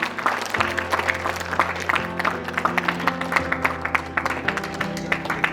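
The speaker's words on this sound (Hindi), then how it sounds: "तालियां बजती रहनी चाहिए।" Steady applause from an awards-ceremony audience, a dense patter of many hands clapping at a moderate level, with musical tones sustained underneath.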